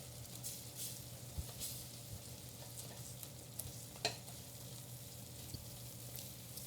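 Flour being stirred into choux pastry dough in a hot pan makes soft, steady scraping and gentle sizzling, with occasional sharper taps of the spoon against the pan.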